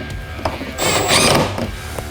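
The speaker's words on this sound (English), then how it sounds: "we're gonna put our 3 screws back into place" Screws on a Ford Super Duty truck's LED tail light are driven in with a whirring power driver, one short burst mid-clip framed by light mechanical clicks, close and fairly loud with no talking.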